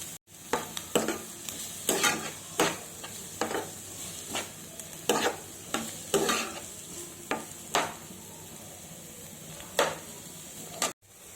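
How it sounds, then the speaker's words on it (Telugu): Onions and green chillies fry in oil with turmeric, a steady soft sizzle broken by repeated sharp scraping stirs at an irregular rhythm, close and moderately loud, ending abruptly. "కొంచెం గోల్డ్ కలర్ వచ్చేంత వరకు వేయించుకుందాం"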